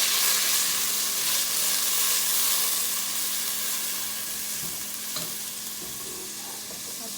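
Yakhni stock poured into a hot pan for noodles, hissing and sizzling loudly at first, then easing to a softer, steady bubbling sizzle over several seconds.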